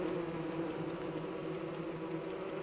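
Swarm of angry bees in Don't Starve Together, a steady, faint, continuous buzzing drone that holds unbroken throughout.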